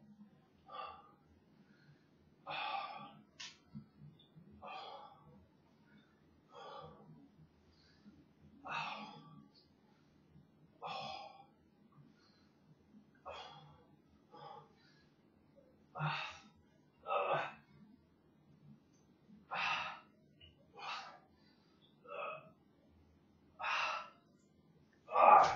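Heavy breathing during a bodyweight home pushup workout, in regular sharp exhalations and gasps repeating every couple of seconds, close and fairly loud over a low steady background hum.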